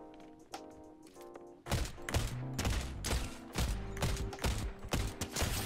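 Gunfire from the Tactical DMR in Fortnite, with sharp loud shots repeating in an uneven burst after a quieter stretch of mechanical game sounds, with no voice.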